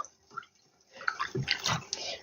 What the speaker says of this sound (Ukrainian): Зараз буду міряти, я отак наливаю.